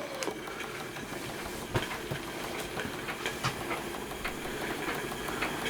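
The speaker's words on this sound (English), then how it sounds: "My Stuart Turner 10H running under steam on a very cold late January morning in 2024 in the UK." A Stuart Turner 10H model steam engine with a cast iron chimney runs under steam on a very cold January morning in the UK, giving a steady mechanical chuffing and rhythmic knocking with sharp clicks, close and continuous.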